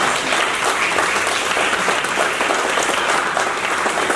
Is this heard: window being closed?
no